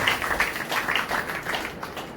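Congregation clapping during a Sunday church service, a steady dense patter of many hands applauding together throughout, moderately loud with no distinct voices over it.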